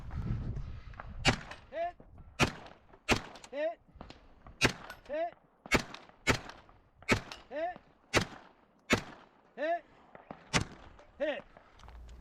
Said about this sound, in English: I have to re-engage the 6 reactive steel targets